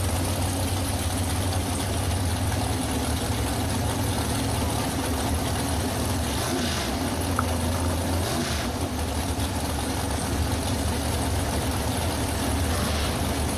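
A Race Tech dragster engine idles at a drag strip, a steady low rumble that runs evenly throughout, fairly distant and without voices over it.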